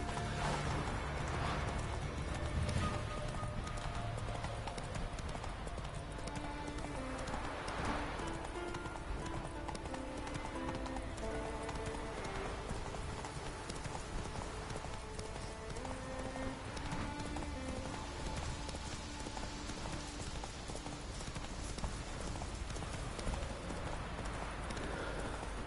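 Horse hooves clip-clop at a steady galloping rhythm in The Witcher 3: Wild Hunt, Geralt's mount running continuously over game music and ambience, a voice occasionally speaking over it.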